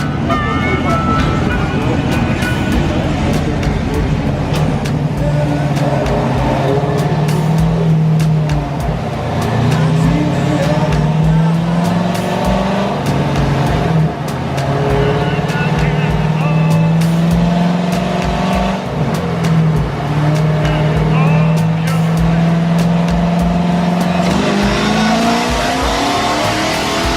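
A 2015 Corvette Z51 C7 with headers, X pipe, cold air intake and E85 fuel revving hard on a dyno, its loud engine climbing through repeated sustained pulls with brief dips, close and continuous throughout.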